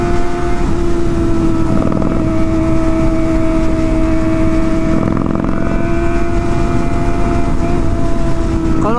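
Harley-Davidson motorcycle engine revving loudly and steadily up close, a constant deep drone with throttle swells, alone without talk.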